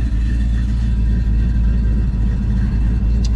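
A 1969 Chevelle with a 4-speed sits idling, its engine giving a loud, steady, close low rumble that holds even throughout with no revving.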